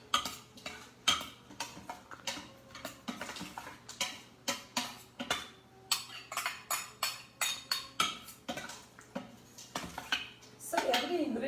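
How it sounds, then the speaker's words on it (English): Black beans and corn tumble into a pot of sautéing black bean soup, giving a run of clattering, ticking clinks of utensil against cookware with soft stirring in between, close and fairly quiet. "I'm putting now black beans, and I'm putting the corn too."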